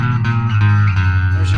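Low-end bass guitar tone through the Neural DSP Parallax plugin, a loud, sustained, thick distorted note with heavy low harmonics and slight shifts as it rings out.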